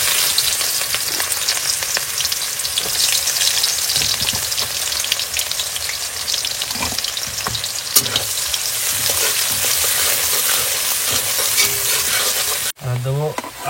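Chopped onions fry in hot oil with whole garam masala, a loud, steady crackling sizzle with occasional stirring scrapes that cuts off abruptly near the end.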